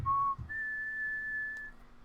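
A short whistled tune: a brief low note, then one long sustained higher note, clear and close.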